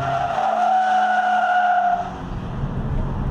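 A Toyota GT86 sports car slides with its tires squealing loudly in a sustained, tonal screech over steady engine noise, the squeal fading after about two seconds as the motor carries on.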